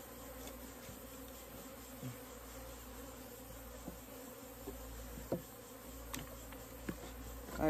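Honey bees buzz steadily around an opened hive during beekeeping, a faint continuous drone with a few soft knocks and handling sounds and no talk.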